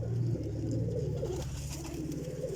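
Salare pigeons coo in a continuous low, throaty burble from close by, with faint background noise.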